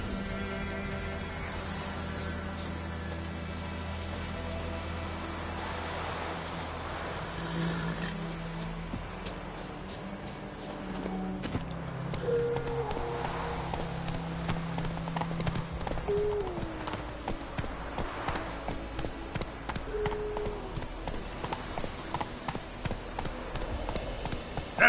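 Horse hooves clip-clop at a steady gallop in the open world of the video game Witcher 3: Wild Hunt, a continuous rhythmic beat over music and ambient game sound, with a brief line of speech.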